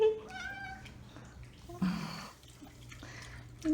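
A pet cat meows a few times, short rising cries close by, with a splash of running water in the middle and another meow at the end.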